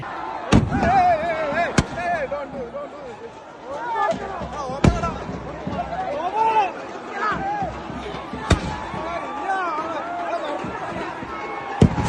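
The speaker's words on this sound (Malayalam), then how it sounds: "സെവൻസ് ഫുട്ബോൾ മത്സരത്തിന് മുന്നോടിയായി നടത്തിയ കരിമരുന്ന് പ്രയോഗത്തിനിടെ കാണികൾക്കിടയിലേക്ക് പടക്കം വീണ അപകടം" Fireworks set off before a sevens football match at night in Areekode, Kerala, with sharp firework bangs recurring through the clip over a crowd's steady chatter and voices.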